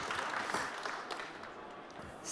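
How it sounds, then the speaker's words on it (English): An audience at a live tech conference event applauds to welcome a speaker, a soft, distant wash of clapping with light crowd murmur throughout. "let's give one more applause, and let's really get Marina Ahoy warmly welcome"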